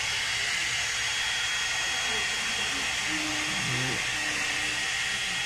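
A steady, loud hair dryer blows with a constant airy hiss throughout, while a voice speaks faintly underneath.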